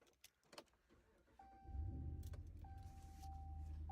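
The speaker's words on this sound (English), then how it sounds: "I got the MagnaFlow in the truck. We might as well fire it up and we can have a listen." A truck fitted with a MagnaFlow exhaust fires up after a few clicks and a whirring starter, settling into a steady low rumble that holds close and loud, a thin whine riding over it.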